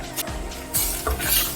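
A spoon stirs a thick spiced chickpea masala in a pressure cooker pot, scraping and knocking against the metal in a few uneven strokes over a low sizzle, close up with no talk.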